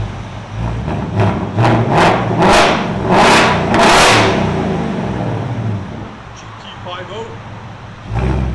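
A 2024 Ford Mustang GT with its 5.0L V8 and a muffler delete, still running the factory resonator, revs in a series of loud, sharp bursts that climb and fall back to a steady idle. Each burst ends in a final blip.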